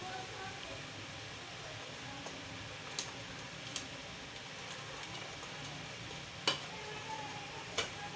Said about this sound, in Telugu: ఇప్పుడు మీడియం ఫ్లేమ్లో ఈ బెల్లం మొత్తం కరిగేదాకా వేయించుకోవాలి